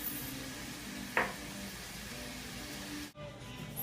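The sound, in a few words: baby scallops frying in bacon fat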